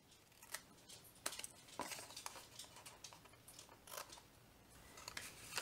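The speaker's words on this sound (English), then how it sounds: "Do a little trimming on this tab." Scissors trimming a paper tab on a Halloween treat bag, a few faint, close snips and rustles of paper at a quiet level with no talk.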